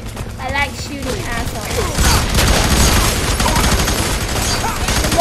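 Dense, rapid gunfire from the video game F.E.A.R. 3, loud and continuous bursts of shots with mechanical clatter, while voices talk over it.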